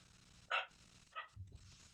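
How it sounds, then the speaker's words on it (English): Dogs barking somewhere in a home: two sharp barks about two-thirds of a second apart, fairly faint and distant, followed by a low rumble, over a quiet background. "Tend to tell the kids to stop the dogs from barking."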